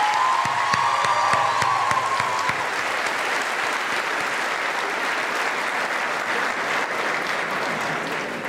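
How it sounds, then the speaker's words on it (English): A graduation audience gives a full round of applause, dense sustained clapping with a few whoops and crowd noise, strong at first and easing slightly toward the end. "Please take this opportunity to give a giant round of applause to Mrs."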